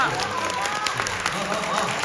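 Audience clapping for a comedian at an evening crosstalk show in Changchun, a dense wash of applause filling the hall while a performer talks over it.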